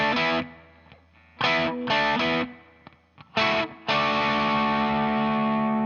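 Distorted electric guitar plays a riff in choppy bursts of chords separated by short gaps, ending on a long ringing held chord, loud and close with no voices.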